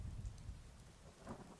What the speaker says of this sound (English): The rain starts.